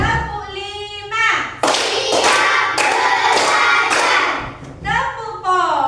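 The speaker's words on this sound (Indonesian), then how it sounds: "Tepuk 5." Schoolchildren in a classroom chant and clap together through a numbered clapping routine, producing a run of loud, rhythmic group claps between stretches of sung voices.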